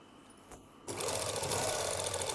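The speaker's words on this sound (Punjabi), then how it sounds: "ਹੁਣ ਇਹ ਸਲਾਈ ਲਗਾ ਲੈਣੀ ਆਪਾਂ" Sewing machine stitching lace onto a dupatta; after a quiet start the motor and needle kick in at just under one second and run steadily and loudly close by, with no talking.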